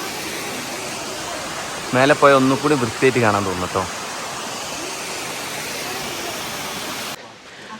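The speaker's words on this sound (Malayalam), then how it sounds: "ടൈഗർ നെസ്റ്റ് നിന്ന് കാണാൻ പറ്റുന്ന ഒരു വെള്ളച്ചാട്ടമാണിത്" A waterfall seen from the trail near Tiger's Nest monastery in Bhutan gives a steady, broad rushing roar through nearly the whole stretch, with someone speaking briefly over it before the sound cuts away near the end.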